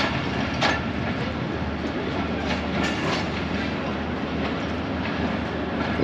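A train pulling out of Gujar Khan railway station after a two-minute stop, heard as a steady, loud rumble of rolling wagons with faint rail clatter, no voices.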